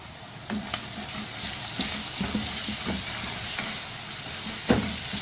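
Minced meat keema frying in a pan with spices, a continuous close sizzle with intermittent stirring scrapes and clinks throughout.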